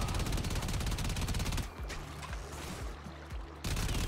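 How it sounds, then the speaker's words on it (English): Enemy gunfire in the video game Warframe: dense, continuous rapid shots forming a steady roar, briefly giving way to a quieter stretch with low thumps before the heavy firing resumes. "These enemies are fucking shooting me through the thing!"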